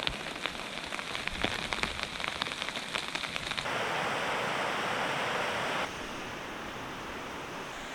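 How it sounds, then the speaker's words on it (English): Rain falls on a tarp strung over a riverside campsite in the Kawartha Highlands. It makes a steady, dense hiss with close pattering drops, shifts in intensity partway through, and carries no voices. "We sat out the rain for a while in the tents"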